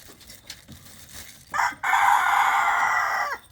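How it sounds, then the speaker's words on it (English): A cock crows in the background at a fantail pigeon breeding loft: brief scratchy sounds, then one long, loud, strained crow lasting over a second, with no talk. "that cock pigeon has to be in the background crowing his head off"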